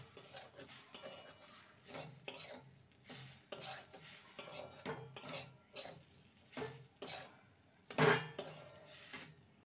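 A spoon stirs a moong dal and pointed gourd mixture in a pan, giving rhythmic scraping and clinking strokes, roughly one every second. There is a faint sizzle between them, heard close and without talk.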